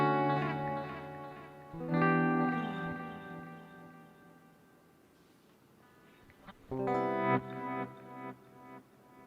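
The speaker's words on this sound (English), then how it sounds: "give you like a swell reverb sound" Guitar chords played through an EQD Avalanche Run delay and reverb pedal set for swell reverb, fading in and sustaining into a long washy tail, with two loud chord attacks separated by a quieter decaying stretch.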